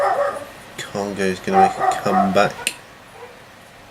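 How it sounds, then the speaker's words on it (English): Several dogs in a neighbourhood bark in short, yappy bursts mixed with whimpers for about two seconds, close and fairly loud, while someone talks over them. "Dogs aren't happy in the neighbourhood."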